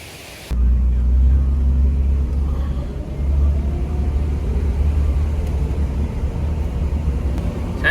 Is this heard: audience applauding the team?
no